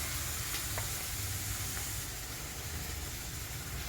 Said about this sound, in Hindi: मैंने मिर्ची, कांदा और ये जीरा डाल के तो फ्राई कर रही हूँ मैं।